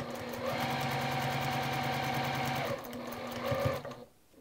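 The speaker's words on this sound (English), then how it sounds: "we're gonna take our stars over to the sewing machine, and we're gonna do a 1/4 inch seam allowance" A sewing machine stitches quarter inch seams on quilted star pieces for a table runner, running in a close, steady mechanical whir for several seconds before slowing and stopping.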